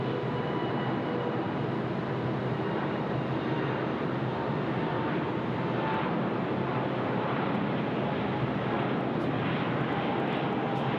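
Emirates airliner departing Sydney Airport, a loud, steady broadband jet roar that holds for the whole stretch with no voices over it.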